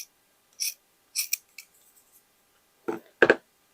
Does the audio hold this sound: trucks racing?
no